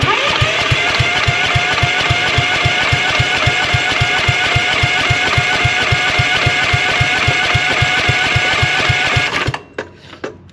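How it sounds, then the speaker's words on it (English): Starter motor cranking a Husqvarna CT151 lawn tractor with the choke pulled full: a loud, rapid, steady mechanical chatter for about nine and a half seconds, never catching, then stopping abruptly with a few faint clicks afterward. "Okay, don't want to burn out the starter motor."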